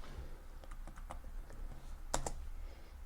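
Keys clack on a computer keyboard in short irregular bursts, with a louder cluster of strokes near the end, close and fairly quiet with no voices.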